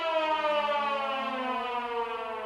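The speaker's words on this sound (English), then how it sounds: "A cruel alarm resounds to alert someone of something." Loud, steady alarm siren in the I/O visual novel game, a sustained wailing tone with strong stacked harmonics that holds on alone for the whole stretch without any talk.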